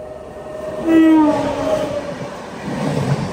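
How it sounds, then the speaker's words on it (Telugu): The Tamil Nadu Express rumbles past close by with a steady, loud roar, and a horn blares briefly near the start before the noise continues. "ఏదో ట్రైన్ వస్తుంది, చూద్దాం ఏం ట్రైనో."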